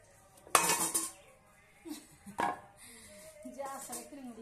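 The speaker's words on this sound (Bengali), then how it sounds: "আমার মা রান্না করছে, তোমরা দেখো" Kitchen clatter while a mother cooks at home: two sharp clinks of pots, pans or utensils, close and moderately loud, followed by softer rattling, with a voice talking quietly in the background.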